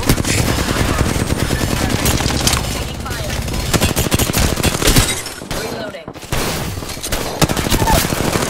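Rapid automatic gunfire in the battle royale game Apex Legends, dense sustained bursts firing almost continuously with a brief pause near the end, loud and close.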